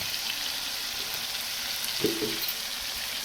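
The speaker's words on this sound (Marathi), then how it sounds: "पुन्हा हे असं परतून घ्यायचं" Tomato chutney sautés in a pan with a steady, soft sizzle, and a single brief clunk of stirring comes partway through.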